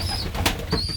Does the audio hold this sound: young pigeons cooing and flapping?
yes